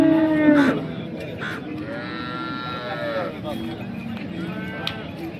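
Cattle moo at a busy Sangola cow market in Maharashtra, with one long, loud low call near the start and further calls through the crowd noise, under steady talk and market chatter.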